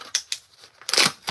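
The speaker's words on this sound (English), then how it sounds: "I can just get these stupid scissors out of here." Scissors are handled and snipped, giving a few short, crisp metallic clicks and rustles close by, including a louder, longer crunching burst near the end, with no talking.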